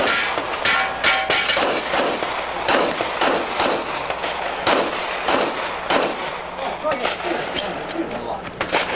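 Sharp gunshots from race guns at a shooting competition crack out in quick, uneven bursts, loud and close, some shots clustered together, with chatter from onlookers mixed in.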